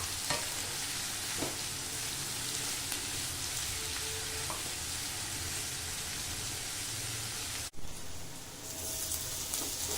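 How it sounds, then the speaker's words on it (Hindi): Onions frying to light golden in a pan for mutton korma, a dense continuous sizzle with occasional stirring scrapes, close and steady, briefly interrupted near the end before sizzling on. "प्याज को हल्का गोल्डन फ्राई कर लेंगे।"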